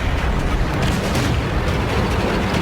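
Heavy booming tank cannon fire in the video game World of Tanks, from an M5A1 Stuart, rumbles in dense, overlapping blasts, loud and close, with no clear pauses between the deep explosions.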